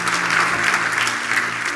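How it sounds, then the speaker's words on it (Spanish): A congregation applauding during a church service, a brief burst of fast, dense clapping that holds level throughout, with a low steady hum beneath it. "Denle un fuerte aplauso a nuestro Dios"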